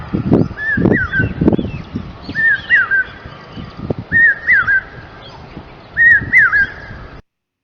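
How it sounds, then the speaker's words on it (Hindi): The Jacobin cuckoo, or chatak, repeats a clear whistled two-note call four times in an even rhythm over a low rustling background, fairly close and loud. "चातक पक्षी पीवू पीवू आवाज करता है।"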